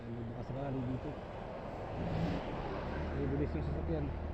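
A car on a provincial road trip route through Pangasinan, Tarlac and Nueva Ecija rushes past with a swelling whoosh and engine hum that builds in the second half, while voices talk over it.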